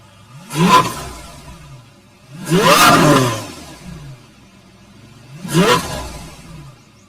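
A Lamborghini supercar engine revs three times in close succession, each loud burst rising and falling back to a rumbling idle, heard from behind the car on a quiet neighborhood street.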